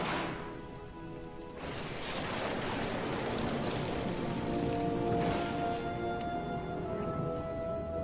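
Heavy torrential rain pours steadily outside a lab building at night, a dense continuous wash of noise with a couple of louder surges, no voices heard.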